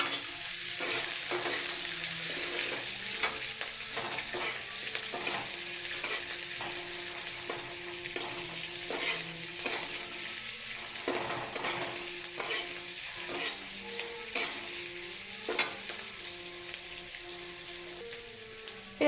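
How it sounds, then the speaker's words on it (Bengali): Onion and green chilli fry in hot oil for a potato-root curry, a steady sizzle broken by repeated clinks and scrapes of a spatula stirring in the pan, close and continuous. "পেঁয়াজ কাঁচা লঙ্কা দিয়ে দিচ্ছি ভাজার লাগা।"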